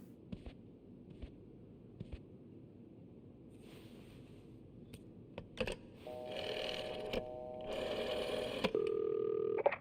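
In the video game This Bed We Made, a phone is dialed and rings: soft clicks and taps come first, then an electronic tone with steady beeping swells and stays loud to the end. No one speaks.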